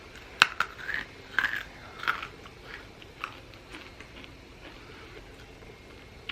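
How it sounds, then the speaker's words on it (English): Someone bites and chews a puffed Skittle candy snack, producing a few sharp close crunches that soften into quieter chewing. "Tastes just like a Skittle, except not as squishy. It's crunchy. You hear it?"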